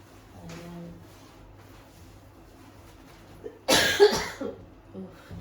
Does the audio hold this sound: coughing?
yes